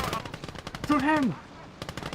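Machine-gun fire in the WWII strategy game Gates of Hell, with rapid bursts of shots throughout and a voice shouting briefly partway through.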